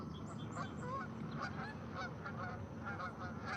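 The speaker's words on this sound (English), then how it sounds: "Some geese in the foreground. You won't see them though." Geese honking off camera at sunrise, scattered calls repeating through a faint, steady outdoor background, fairly distant and quiet.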